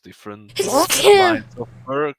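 One sharp sneeze in the middle of a man's speech, loud and close, with talk on either side.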